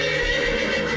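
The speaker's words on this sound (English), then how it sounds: "Horse." A horse neighs in one loud, sustained whinny, close and unaccompanied, used as a quiz sound on a game show.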